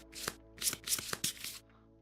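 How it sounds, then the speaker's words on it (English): A deck of board game cards shuffled by hand close by, a few quick riffling bursts of papery flutter and snapping within about two seconds, then quiet, with no talking. "so pick this up, shuffle it"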